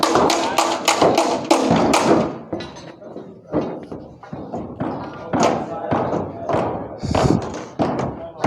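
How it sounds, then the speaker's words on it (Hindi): A hammer knocks leftover cement off construction shuttering plates on a building site, giving a rapid run of sharp, close thuds and taps with short pauses between bursts. A voice talks over the hammering. "और ये शटरिंग जो है, इसको भी ये हथौड़े मार के इसको, इस पे जो सीमेंट वगैरह लगा होता है उसको उतारते हैं।"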